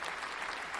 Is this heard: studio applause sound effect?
yes